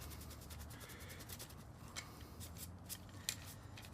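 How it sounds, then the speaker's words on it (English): Steady dry rubbing and scuffing of a Nerf Strongarm blaster part being polished by hand, a close, fairly quiet continuous friction sound with faint repeated strokes and a couple of small ticks. "Now I'm polishing it. I'm kind of rubbing it all together."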